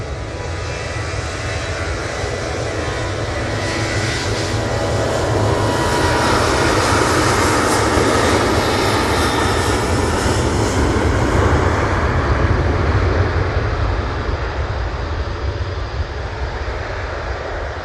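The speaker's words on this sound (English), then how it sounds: "Next out, we have the Ryanair." Ryanair jet airliner at Manchester Airport, a loud, sustained broadband engine roar with a deep rumble that builds and holds for a long stretch, heard from a distance.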